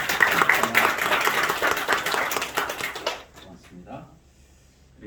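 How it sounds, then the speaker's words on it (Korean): Applause from a congregation during a Sunday church service, steady hand clapping for about three seconds before it fades into quiet. "우리 박수를."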